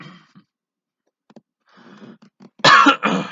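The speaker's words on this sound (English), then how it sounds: "Once again, sorry about that coughing." A man coughs during a film commentary recording: a few faint throat sounds and breaths, then two loud, harsh coughs close to the microphone at the end.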